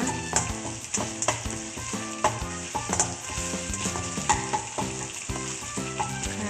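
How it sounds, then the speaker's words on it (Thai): Curry paste stir-fried over medium heat for a spicy crispy catfish dish, a constant oily sizzle with stirring taps, heard beneath fairly prominent background music. "เราผัดพริกแกงของเราให้ออกสีสีสันนะคะ"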